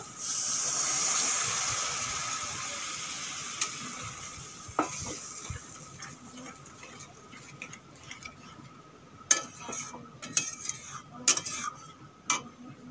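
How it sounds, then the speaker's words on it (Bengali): Coconut milk poured into well-fried masala for a prawn biryani, stirred with a utensil in the pan: a soft steady sizzle fading under intermittent scraping clicks and taps of the spoon against the pot. "এখন দিয়ে দেবো অল্প একটু নারকেলের দুধ বের করে নিয়েছি, দিয়ে দেব"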